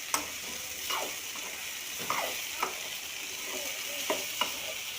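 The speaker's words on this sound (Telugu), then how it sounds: "ఆలుగడ్డలు వేసి ఒక 5 minutes దాకా ఉడకనివ్వాలి." Potato pieces sizzle softly in a frying pan while a utensil scrapes and stirs them in several short, scattered strokes.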